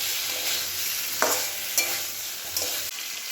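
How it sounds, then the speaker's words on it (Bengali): Curry with spices sautéing in a pan: a steady hiss of frying with a few sharp spoon scrapes and stirring clinks, close and continuous, with no talking. "একটু মশলা দিয়ে কষছি"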